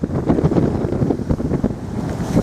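Strong wind roars against a boat in rough, dangerous seas in the Strait of Gibraltar, a loud, constant buffeting rush with the low wash of waves beneath and no voices.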